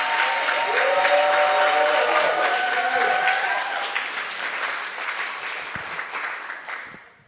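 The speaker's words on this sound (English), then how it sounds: "Let's give our middle school and high school contestants a round of applause" A sustained round of applause rises for middle and high school contestants at a Martin Luther King Jr. oratorical competition. It holds full in the hall, with sustained tones underneath, then slowly fades away.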